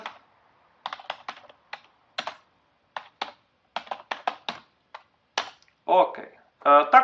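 Typing on a computer keyboard while entering text into MS Project, a close series of quick irregular key clicks in short bursts with pauses, a few louder heavier strokes near the end.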